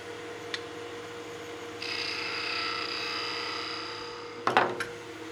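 A wood gouge rounding over a spinning top on a lathe, with a steady whirring cut rising out of the motor hum and holding for a few seconds before a brief knock and clatter.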